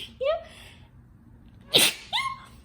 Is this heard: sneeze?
yes